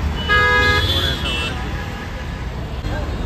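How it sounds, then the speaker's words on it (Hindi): Jammed Delhi traffic near Chhatarpur metro station, a loud horn honking in two overlapping blasts, then a fainter toot, over a steady engine rumble with voices faintly mixed in. "दिल्ली में बहुत ट्रैफिक है आप देखिए"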